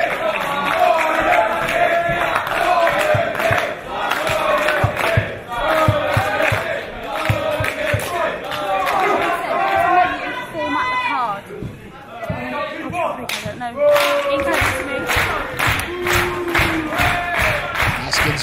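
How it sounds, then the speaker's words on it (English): A live wrestling crowd at a Dragon Gate UK show claps in rhythm and cheers, a loud close wash with chants and shouts, while a commentator's voice talks over it throughout. "Haskins brings the crowd into it."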